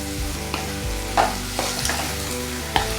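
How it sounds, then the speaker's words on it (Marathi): Green tomatoes fry in a pan over a low to medium flame with a soft, steady sizzle, broken by a few brief stirring scrapes and clinks against the pan. "तर लो टू मिडियम फ्लेमवरती आपण टमॅटोसुद्धा छान असे भाजून घेऊ"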